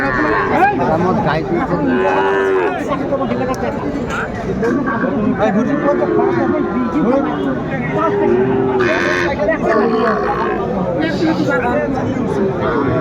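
Several Sahiwal cattle moo repeatedly at a Manikganj farm, some near and loud, others farther off, amid a busy murmur of people talking in the background.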